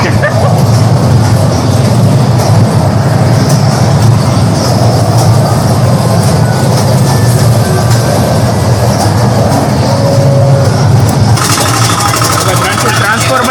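Toy train ride rolling through a busy game zone, a steady loud mechanical rumble and clatter running throughout amid arcade noise, with people talking over it.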